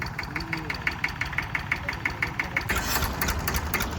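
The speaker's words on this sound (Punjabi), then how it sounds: "ਲੋ ਜੀ ਬਾਈ ਟਰੈਕਟਰ ਚੱਲਿਆ" An IMT 533 tractor engine runs close by with a steady, rhythmic diesel chug and regular knocking pulses, then turns rougher and louder near the end.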